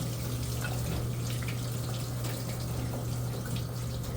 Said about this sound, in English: Now it's time to clean it out with hot water.